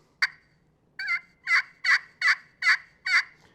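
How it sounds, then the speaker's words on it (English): A friction call gives a plain turkey yelp: one short sharp note, a pause, then six evenly spaced, close and clear yelps in a steady rhythm, with no talk. "And that's a plain yelp."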